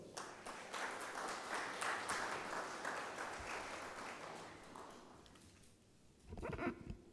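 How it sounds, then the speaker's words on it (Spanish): Faint, sustained audience applause fills a Spanish-language international seminar on democracy and constitutional pluralism, a soft even hiss of many hands that thins toward the end before a brief louder burst. "Le brindamos un fuerte aplauso."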